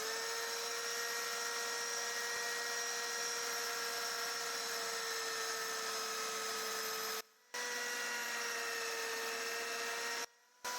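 Sanding the spout and shaft of a wooden urn on a lathe produces a loud, steady high-pitched whine that holds constant, broken by two brief cutoffs into silence.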